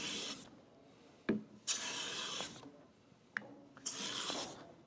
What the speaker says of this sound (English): I'm gonna skew the blade. You can see I'm going at an angle rather than straight on, just to give it a little bit of a slicing action.